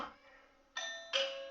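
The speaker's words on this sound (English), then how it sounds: "sorry about my doorbell" A household doorbell chimes twice, two bright ding-dong tones ringing out clearly over a quiet room with a faint low hum.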